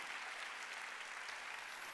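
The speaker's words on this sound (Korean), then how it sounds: "박수치라 이게야" A congregation applauding during a sermon, a steady dense wash of clapping from many hands with no voices over it, held at an even level throughout.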